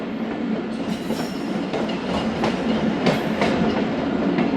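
Thal Express passenger train rolling along the rails near the Chenab River, a continuous loud rumbling roar with faint rhythmic wheel clatter and no voices.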